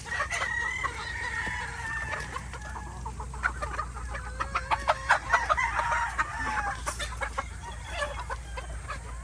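Chickens in a backyard flock cluck steadily with scattered short pecking taps, a rooster-like call rising among them, fairly close amid continuous farmyard ambience.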